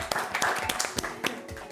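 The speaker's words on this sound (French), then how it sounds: "on l'applaudit" Scattered claps from a small audience at a skin-care cooking show, a few sparse handclaps with faint chatter mixed in, brief and moderately close.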